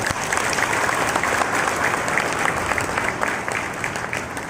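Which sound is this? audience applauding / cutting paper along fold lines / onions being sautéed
audience applauding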